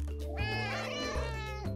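Several cartoon cats meow together in a cheer from a cat-themed farming video game, a cluster of layered, tonal meows rising and falling in quick overlapping calls over a steady low game backdrop.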